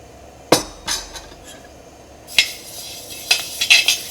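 Broken wheat dry-roasting in a hot pan gives scattered clinks and scrapes from a spoon stirring against the metal, a few sharp knocks, then a quick cluster of taps near the end.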